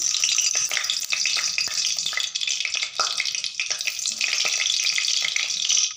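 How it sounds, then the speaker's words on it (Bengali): Potatoes fry in refined oil and ghee in a wok, producing a loud, dense, continuous hissing sizzle that barely changes over several seconds. "এবার আমি আলুটা একটু ফ্রাই করে নিচ্ছি"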